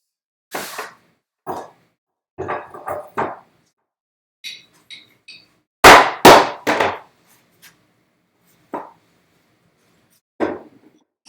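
A 3/4 inch chisel is struck with a mallet while cutting a mortise for a bookcase, giving sharp separate knocks in uneven clusters with quiet gaps between.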